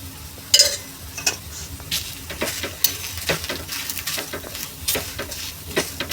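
Sponge gourd pudla frying in a pan gives a steady low sizzle, broken by scattered sharp clicks and scrapes of a utensil against the pan, close up with no talking.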